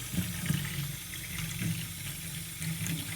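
About 300 ml of water is poured into a can of wall paint, producing a soft, continuous trickling and splashing with small gurgling bursts, moderately close and quiet, with no speech.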